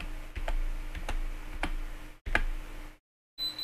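Keys tapped one at a time on a laptop keyboard, entering a security code for a Vista 20 home security Arduino project: about eight sharp, separate clicks at an uneven pace over a low hum, then silence and a faint electronic tone.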